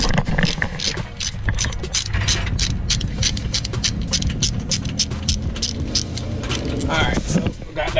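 Hand ratchet working on the caliper bracket bolts behind a car's brake rotor, giving busy, close clicking and metallic clatter throughout, with a voice talking over it.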